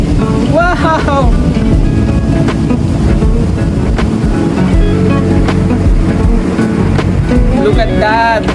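Strong ocean surf about six feet high breaks continuously at Dianao Beach near the Parang Hills in Aurora, with loud broadband wash and wind buffeting the microphone while people talk over it.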